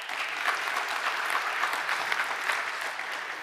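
A conference audience at a PyCon and PyData Berlin lightning-talk session claps steadily and continuously, a dense even wash of hands with no voices above it.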